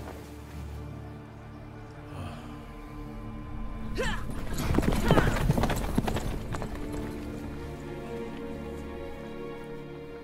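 Horse hooves clip-clop steadily while riding in The Witcher 3, a rhythmic trot that swells louder mid-clip over a bed of ambient game sound and faint background voices.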